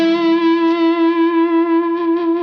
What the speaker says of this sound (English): So I'm just adding a tube screamer to my overall tone.